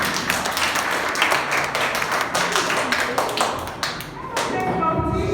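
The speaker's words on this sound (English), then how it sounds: "Let's give Team A a round of applause once again." Audience applause for a school debate team at a senior high intra-class debate competition, a dense wash of clapping and tapping that holds steady for several seconds and then thins toward the end.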